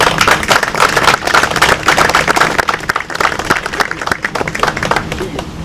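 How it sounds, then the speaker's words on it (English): An audience at a town Memorial Day event bursts into loud, close applause, many hands clapping in a thick, crackling patter that thins slightly toward the end, with some voices mixed in. "I think everybody should give them a quick round of applause for their hard work"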